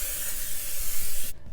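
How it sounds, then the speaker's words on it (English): A single steady burst of cooking spray hisses onto a nonstick pan for about a second and a half, close and loud, then cuts off abruptly. "I am just gonna add some cooking spray to the pan"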